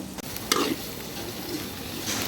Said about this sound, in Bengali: এখন মশলাটা ভালো করে মিশিয়ে নিব।